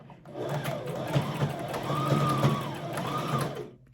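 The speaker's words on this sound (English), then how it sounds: "It's sewing." Up close, a sewing machine whirs in a steady mechanical run while stitching a faux fur jacket, building for a few seconds and then stopping.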